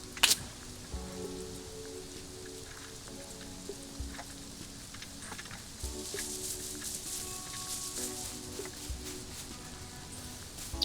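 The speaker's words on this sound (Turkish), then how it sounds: "Bir de yağmur yağıyor ya." Steady rain falls in the survival video game Rust as a faint, even hiss that lasts throughout, with a few soft tonal game sounds over it and no talking.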